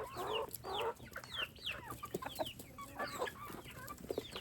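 Chickens cluck and squawk in quick, busy bursts, several birds close by making a steady chatter of short calls as they run around a homestead yard.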